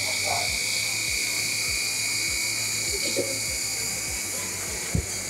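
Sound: FRC robot under-the-bumper intake roller running

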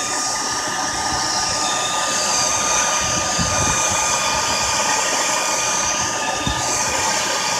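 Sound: hair dryer heating rubber bands

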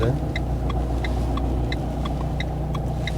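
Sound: car approaching

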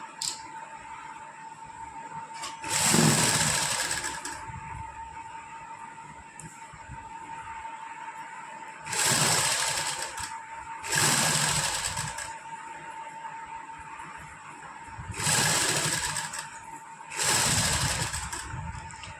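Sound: sewing machine stitching lace onto a suit

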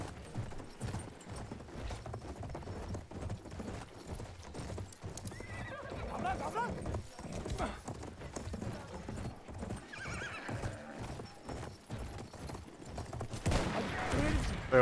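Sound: horse galloping in video game Battlefield 1

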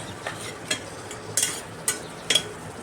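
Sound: stirring sweet potato curry with spices in a pan

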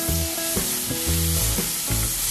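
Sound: garlic and lemongrass sautéing in oil

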